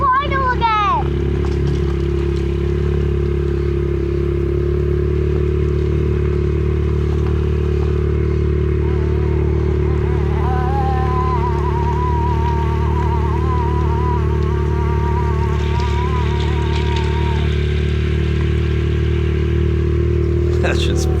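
An XR dirt bike crawls along in first gear, its engine a steady low thrum that carries on without a break; a voice is heard briefly over it.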